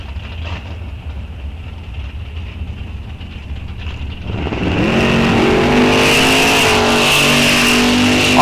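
Drag race cars, one a Dodge Dart, launching at Rock Falls Raceway: a low idling rumble builds sharply into a loud roaring acceleration with rising engine tones, close and dominant.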